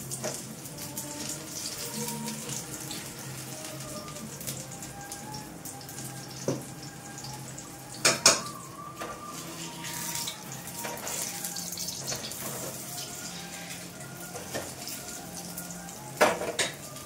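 Dough frying in hot ghee for mughlai, a soft steady sizzle with occasional clinks and knocks of utensils and pans nearby, a couple of sharper metallic taps standing out, and no one speaking.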